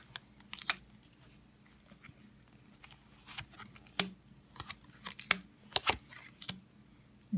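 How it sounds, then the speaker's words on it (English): Tarot cards being laid out on a surface, scattered soft slaps, snaps and papery clicks at uneven intervals, close and quiet, with no talk. "So I want to lay out now a few more of these cards. The tarot."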